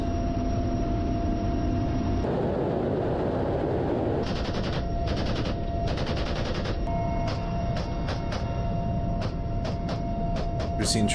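Bursts of rapid automatic gunfire in the war in Ukraine rattle repeatedly over a steady droning engine hum, loud and close, with short pauses between volleys.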